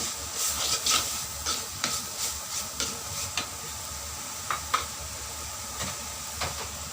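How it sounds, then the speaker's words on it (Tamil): Spices, turmeric and coriander powder, sizzling in a hot pan for a Kerala-style sardine fry, with occasional scraping and stirring clicks, a constant crackling hiss underneath, close by. "லைட்டாக அப்படி கொஞ்சம் ஃப்ரை பண்ணிடணும்."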